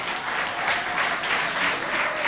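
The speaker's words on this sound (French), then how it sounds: "On applaudit pour les encadreurs s'il vous plaît." A school audience at a provincial high-school competition in Sarh applauds the supervisors, a steady, dense wash of clapping from many hands, fairly close and unbroken for the whole stretch with no voices over it.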